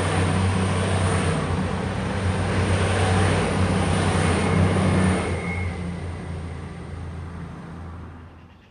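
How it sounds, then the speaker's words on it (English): Goods train passing through Market Harborough station, a heavy continuous rumble with low engine drone that holds steady and loud for several seconds before gradually fading away. "I think I can hear a goods train coming through the station."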